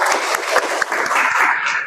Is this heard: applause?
yes